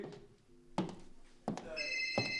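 A mobile phone rings indoors with a short electronic tone pattern that starts softly and builds into brighter repeated chimes, fairly close, with faint room sounds beneath.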